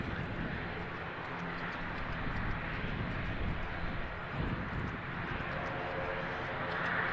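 A distant Pilatus PC-12 turboprop on approach to Christchurch Airport drones steadily, its engine noise a broad, faint rumble that holds without change.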